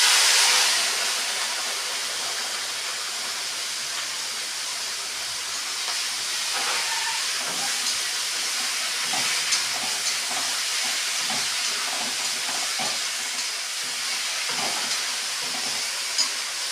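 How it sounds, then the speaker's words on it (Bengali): Small fish frying in a wok: a loud, constant hissing sizzle throughout, with light scraping stirs and clicks joining after the first few seconds, close up and with no voices. "তো এখন আমি এগুলা একটু ভাজা ভাজা করার জন্য একটু নেড়ে চেড়ে নেব।"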